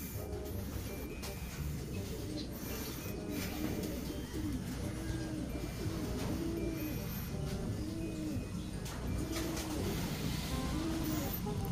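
Racing pigeons coo repeatedly at the loft after a hard race, soft rounded calls rising and falling over a steady background hum, with someone talking over them.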